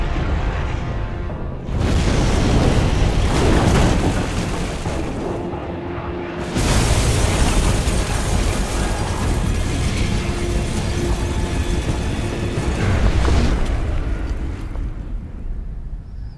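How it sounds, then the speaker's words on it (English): Loud, heavy explosions in the video game The Secret War: a booming rumble that bursts in near two seconds, dips, then erupts again and rolls on thickly until the end. "Explosion."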